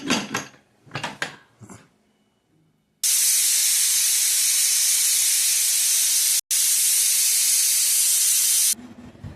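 A pressure cooker of vegetable pulao lets out a loud, steady hiss of steam that runs for several seconds and breaks off for an instant midway, after a few softer clattering kitchen sounds.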